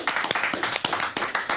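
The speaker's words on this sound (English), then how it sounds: "59, round of applause" A short round of applause from a school audience at a Children in Need broadcast, a brisk, even burst of many hands clapping close by.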